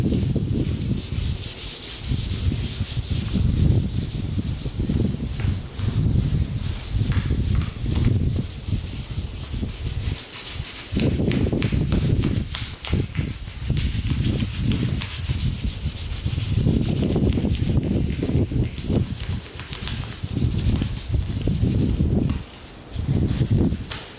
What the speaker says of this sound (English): I might switch back and forth between the scupper pad and the sandpaper and just see what works